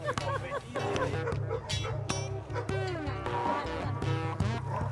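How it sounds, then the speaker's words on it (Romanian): Dogs bark and yip repeatedly in an urban river meadow, sharp close barks recurring throughout over steady low rumbling background noise. "Avem niște câini aici."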